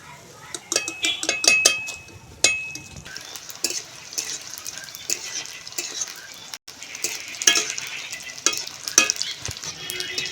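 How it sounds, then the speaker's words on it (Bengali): Mixed vegetables for a flour-based Kashmiri roll curry fry in hot oil with a steady sizzle, broken by sharp metal clinks and scrapes of a utensil stirring the pan. "তো বন্ধুরা এদিকে এই সবজিগুলো ভাজা হোক"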